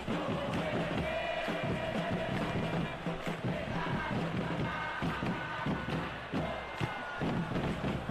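A large football stadium crowd responding to good play in a match, a dense roar of cheering and murmuring that stays steady and broad throughout.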